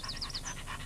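A cartoon dog in Noddy's Toyland pants rapidly in a steady rhythmic series of short breathy huffs, close and clear with no talking over it.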